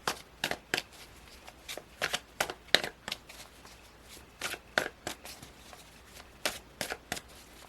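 A deck of stiff tarot cards is shuffled close up, producing a series of crisp, riffling flicks and taps in irregular bursts, fairly quiet and without talk.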